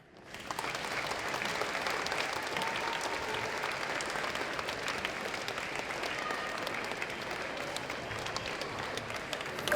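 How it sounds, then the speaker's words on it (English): An audience at an 8th grade recognition ceremony applauds steadily for several seconds, a dense wash of clapping that starts abruptly and holds at an even level. "give them a big round of applause"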